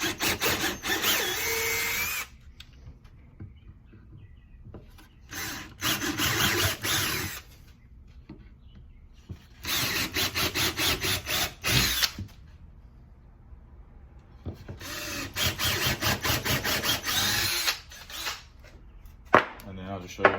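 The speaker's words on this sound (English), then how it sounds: "So we'll just pop through this plywood here with some pilot holes." A power drill bores pilot holes through plywood in four loud whirring bursts of a few seconds each, separated by quiet pauses, close by in a workshop.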